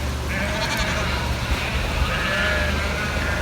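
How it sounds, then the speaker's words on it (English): A flock of sheep being driven through a working farm campsite in Patterdale, giving repeated bleats of varying pitch over a constant low background hum, moderately close and without talk. "Sheep getting driven through."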